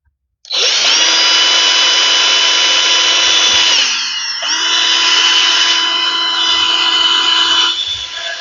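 A power drill runs steadily through circuit board pads while a stronger 6 amp diode is being replaced on a battery charger, a loud continuous whine that dips briefly midway then resumes until the end.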